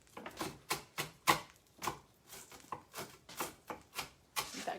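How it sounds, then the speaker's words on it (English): Cooked bacon being chopped with a knife on a board for corn bread, a steady series of soft, scraping cuts at a brisk, slightly uneven rhythm, close and fairly quiet. "while you're chopping your bacon"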